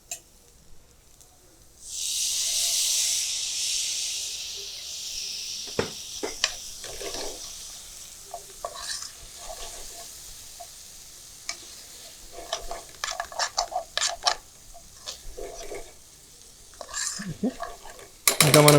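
Tomatoes going into a pan of frying onions give a loud burst of sizzling, followed by scraping, stirring and clinks of a spoon against the pan, while a voice talks at times over the cooking.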